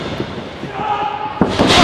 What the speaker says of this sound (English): Black Hole slams him down.